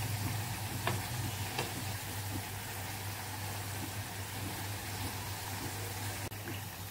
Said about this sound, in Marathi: दोन्ही बाजूने छान अशा सोनेरी रंगावरती फ्राय करून घ्यायच्यात आपल्याला या